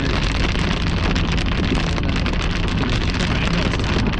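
Hail and heavy precipitation pound a storm-chase vehicle in a hail core, a loud, dense, continuous broadband roar with wind buffeting, steady throughout with no talk.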